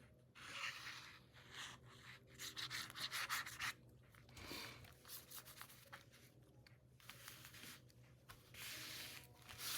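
Paper envelope pressed and rubbed down by hand as glue sets on the back, with lace trim: soft, faint, irregular scratchy rubbing strokes in short bursts, close by and without speech.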